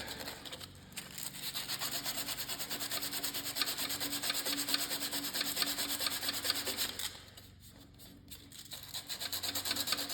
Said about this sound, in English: Go ahead and sand that magnet.